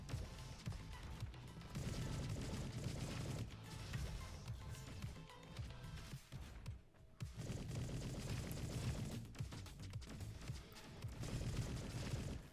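Rapid gunfire bursts from an Engineer's gun in the robot shooter Roboquest, during a boss fight, crackle densely and continuously over a thick layer of game effects and explosions, with no pauses.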